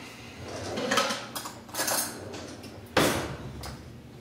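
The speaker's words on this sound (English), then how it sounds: "I'm going to get another spoon." Metal spoons and cutlery clatter in a home kitchen during pumpkin pie tartlet baking, with a few separate clinks and rattles over several seconds and a sharper, louder clash near the end.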